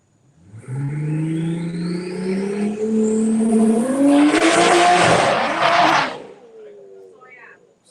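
A drag racing car launches down the strip with a loud, rising engine roar. Tire noise swells mid-run before the car cuts off abruptly and the sound fades.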